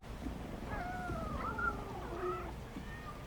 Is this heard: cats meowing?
yes